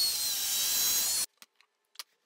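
A track saw trims excess wood off the base of a small cross-cut sled, giving a loud, steady, high-pitched cutting whine for over a second that stops abruptly, followed by a few faint clicks and taps.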